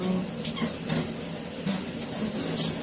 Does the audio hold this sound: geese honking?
no